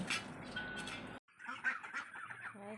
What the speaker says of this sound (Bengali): আর দেখো হাঁসগুলো সব চলে এসেছে পাশের বাড়ি যে হাঁসগুলো ওরা চলে এসেছে